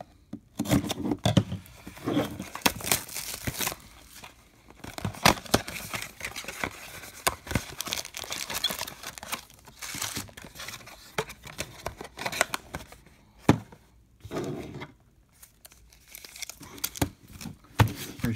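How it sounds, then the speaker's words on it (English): Boxes and foil packs of 2019 Topps Star Wars Chrome Legacy trading cards being opened up close: crinkling wrappers, tearing, card shuffling and cardboard scraping come in irregular bursts broken by short pauses. "I'm gonna open up both boxes"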